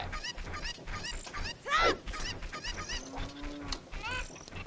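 Cuccos, the chickens of Zelda Ocarina of Time, squawk and cluck in the game, a run of honking bird calls with one louder squawk midway, layered over game sound effects and a brief voice.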